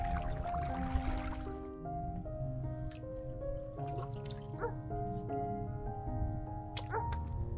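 Dogs bark back and forth outdoors somewhere distant, scattered short yelps rising over a busy background of sustained tones and low rumble, faint but repeated throughout.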